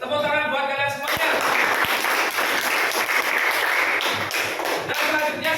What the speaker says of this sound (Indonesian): Tepuk tangan buat kalian semuanya.